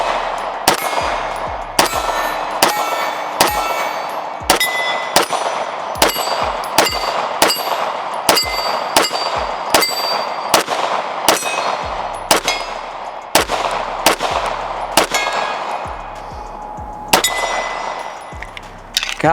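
Pistol shots from a Staccato Tac Pro 4.25 ring steel targets in quick staccato strings, each crack followed by a bright metallic clang, loud and close with no talk.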